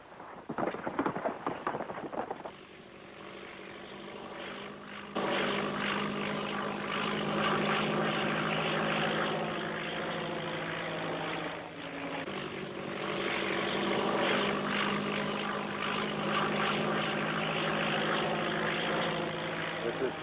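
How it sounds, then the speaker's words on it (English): A propeller airplane flying overhead makes a continuous droning roar that stays loud and steady for about twenty seconds, with voices faintly underneath. "where's this plane coming from?"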